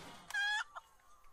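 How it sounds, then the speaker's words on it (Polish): Chickens in the video game South Park: The Stick of Truth give a short burst of clucking, one sharp loud squawk followed by a couple of fainter clucks, alone and close. "Kury!"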